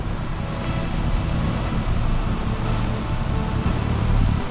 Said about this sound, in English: Listen to the blast churning those massive tires, sending mud flying everywhere